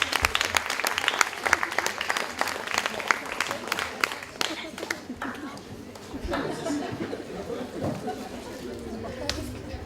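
A crowd at a French evening party claps warmly and continuously, the dense applause tapering slightly in the later seconds as murmured chatter and voices rise underneath.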